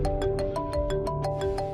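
A mobile phone rings for an incoming call, a melodic electronic ringtone repeating short tonal pulses in a quick steady rhythm, loud and close with no talk over it.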